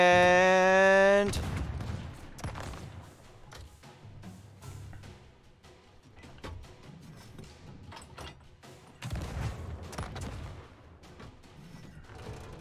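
Gunfire in the pirate video game Sea of Thieves, a loud booming blast at the start followed by scattered thuds and shots under game ambience, with another burst of louder shots later.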